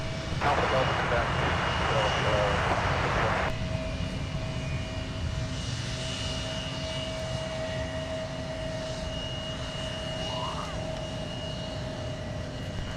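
An Embraer E175 jet arrives at Minneapolis airport with a steady, moderately distant engine roar and whine, while radio chatter talks over it.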